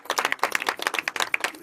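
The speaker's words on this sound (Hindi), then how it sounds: "एक बार जोरदार ताली बजाकर स्वागत करें।" An audience at a village Ambedkar Jayanti celebration claps in sharp, close bursts, with quick uneven hand claps and brief dips between the bursts.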